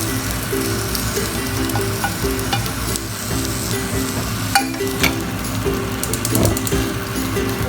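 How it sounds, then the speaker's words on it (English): Vegetables and masala sizzle and fry in a pan over a low flame for a home-style vegetable roast, with a steady close crackle and occasional stirring scrapes and clinks throughout. "just saute it till the masalas get cooked a bit"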